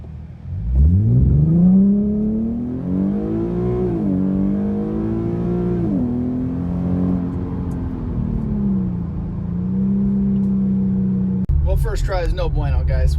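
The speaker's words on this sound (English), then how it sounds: "With traction control on, it cuts power way too much. The tires broke loose." An Infiniti Q50 with rear-wheel drive launches hard with traction control on, its engine rising in a loud, close drone that wavers as the tires break loose, then cuts off abruptly into a brief burst of other noise.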